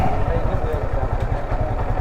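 A Yamaha R15 motorcycle engine runs with a steady low rumbling throb close by, continuous throughout, while someone talks over it.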